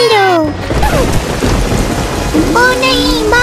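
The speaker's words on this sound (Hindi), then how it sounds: "ओ नहीं, बारिश हो रही है।" Heavy rain pours while low thunder rumbles, mixed with sweeping electronic tones and effects, loud and continuous.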